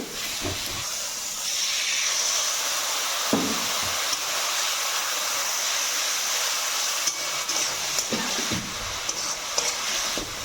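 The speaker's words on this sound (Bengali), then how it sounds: "সামান্য পরিমাণ জল দিয়ে নেব এর মধ্যে" Water is poured into red chili spice paste frying in a pan for a rohu fish curry, giving a loud continuous sizzling hiss that fills the clip with a few soft knocks.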